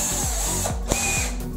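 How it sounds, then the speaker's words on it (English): A power drill bores holes in a DIY sim racing rig, giving close, loud bursts of motor whine that spin up and wind down in quick succession. "drilling holes again."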